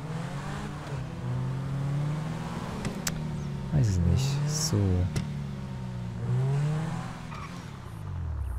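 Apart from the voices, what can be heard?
car driving in video game GTA V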